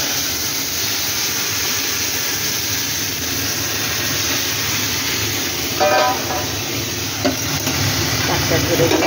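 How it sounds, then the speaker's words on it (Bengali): Bottle gourd leafy greens are tipped into hot oil with browned garlic, raising a steady, loud sizzle that fills the whole stretch, with a few brief clatters near the end. "এবার আমি শাকটা ঢেলে দিচ্ছি।"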